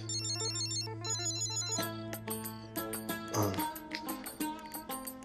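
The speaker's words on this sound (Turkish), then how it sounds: "Vallahi telefon çalıyor," A telephone rings in a Turkish village comedy series, a repeating electronic ring pattern that soon blends with clattering music and other sounds; no speech over it.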